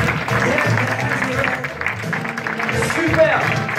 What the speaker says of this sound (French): Je voudrais que vous l'applaudissiez très très fort.